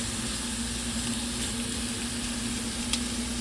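Shrimp for jambalaya cook in a pan with a steady, close sizzle and hiss that holds even throughout, no voices.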